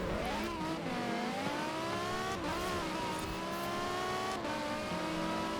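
Lightweight Lotus drag car in Forza Horizon 4 launching, its engine revving and rising in pitch through several gear changes, with throttle swells and brief dips between pulls.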